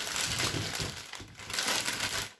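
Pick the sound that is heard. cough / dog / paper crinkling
paper crinkling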